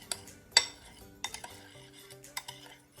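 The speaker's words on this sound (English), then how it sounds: "Okay, so we're gonna mix it" A spoon stirs cinnamon sugar in a small dish for snickerdoodles, giving quiet, scattered clinks and scrapes with gaps of near silence and no talking.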